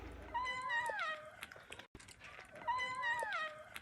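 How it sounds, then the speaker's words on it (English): An orange cat makes a sing-song, warbling meow-like vocalization while eating, repeated twice in two similar phrases with a brief gap between, fairly faint but clear. "I'm like, it's a singing cat."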